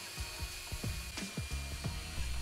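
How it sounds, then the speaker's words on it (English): A hand drill fitted with a 5/16 inch cobalt bit bores through clamped steel with cutting oil, grinding in short repeated bursts of bite and whine with a steady hum underneath. "I used a 5/16 inch cobalt bit with my hand drill"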